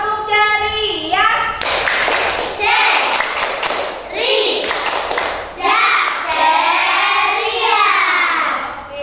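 Children in a classroom clap along in bursts of rhythmic finger clapping, with a teacher's voice and kids' voices talking and chanting between and over the claps.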